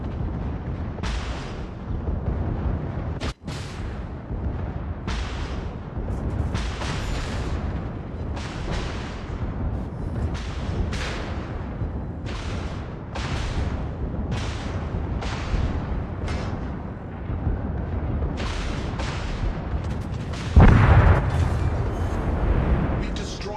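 Gunfire and explosions destroying an enemy battleship, a loud, relentless series of heavy booming blasts roughly every second, with a sharp crack early on and a bigger burst near the end.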